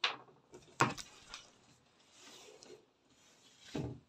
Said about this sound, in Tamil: சோ நான் நேரா கட் பண்ணிறேன் இப்ப கை பீஸ் கட் பண்ணிக்கலாம்